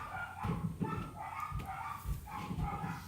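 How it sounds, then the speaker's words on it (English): Puppies barking in a home, a string of short, yappy barks and yips in uneven bursts, moderately close, with no one talking over them. "if you hear the puppies, I am so sorry"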